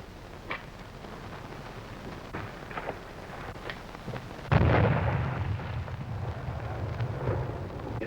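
A bomb exploding in a colorized black-and-white Western, first a few faint scattered knocks, then a sudden deep roaring blast that rumbles on and slowly fades, with no talking.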